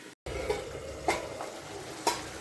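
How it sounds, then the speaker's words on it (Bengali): Chicken curry with meat pieces being stirred in a pot over a low flame, with a steady soft sizzle and a few distinct scraping strokes about once a second. "এখন দেখি মাংসটার কি অবস্থা, একটু নাড়াচাড়া করে দেই।"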